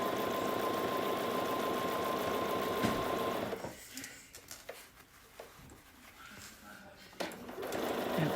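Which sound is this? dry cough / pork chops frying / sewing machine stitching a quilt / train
sewing machine stitching a quilt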